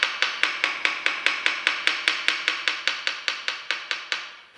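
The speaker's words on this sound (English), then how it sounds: "tapping the caliper with a non-marring object such as a wooden handle of a hammer" A wooden hammer handle taps an Avid Elixir bicycle disc brake caliper in a steady series of about twenty sharp, close knocks, roughly five per second, with no talking.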